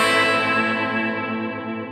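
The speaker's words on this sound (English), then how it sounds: "Now the next thing I'm going to add is a big lush reverb." Electric guitar chord washed in a big lush reverb, ringing and bell-like with a long, shimmering sustain, heard alone without talk.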